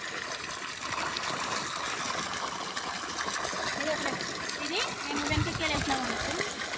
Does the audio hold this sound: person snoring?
no